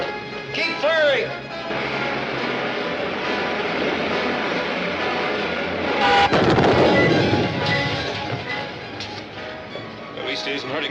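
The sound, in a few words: gunfire sound effect from a serial battle scene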